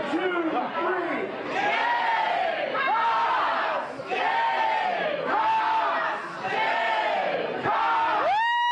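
A crowd of fans cheers and yells in repeated loud surges, with whoops and battle-cry shouts rising and dipping for several seconds at close range, and a voice breaking through near the end.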